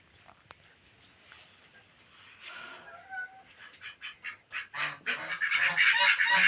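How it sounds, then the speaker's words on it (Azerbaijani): Muscovy duck calling repeatedly in a rapid series of hoarse honking calls that grow louder and denser toward the end, with a sharp click early on and no talk. "Sadəcə ördəklər arasında ən güclüsü budur. Lal ördək."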